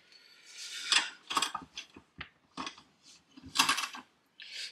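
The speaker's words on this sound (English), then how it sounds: "that's stitching with a stitching pony" Hand stitching a leather knife sheath held in a makeshift stitching pony: irregular close scratchy rasps and soft clicks as thread is pulled through the leather, in short bursts with pauses between.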